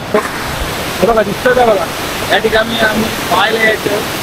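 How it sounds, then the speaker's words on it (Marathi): Steady broadband rush of the Kalkondi waterfall in Manalwadi fills the background while people talk over it. "मनलवाडीचा फेमस इथला कालकोंडी धबधबा, कालकोंडीचा धबधबा दाखवतो"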